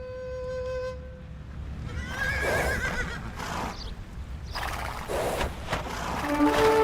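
Horses in the Age of Empires II: Definitive Edition campaign give several loud neighs and whinnies in turn, with hooves and mechanical game effects behind them, after a short musical tone at the start.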